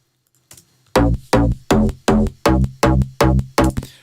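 A punchy electronic kick drum thumps eight times in a steady, even rhythm, each hit starting with a sharp click and decaying with a deep boom.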